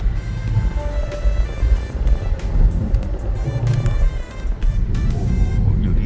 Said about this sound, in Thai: กดปึ๊ดเดียวแม่เทอร์โบทำงานดึงหลังหงายเลยครับ